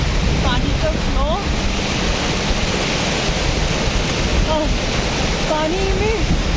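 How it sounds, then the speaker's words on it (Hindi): The Baspa river at Chitkul rushes along below a steep riverside walkway, a loud, steady broadband roar of flowing water that fills the whole clip, with brief chirping calls and faint voices over it. "पानी का फ्लो,"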